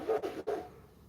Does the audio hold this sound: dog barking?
yes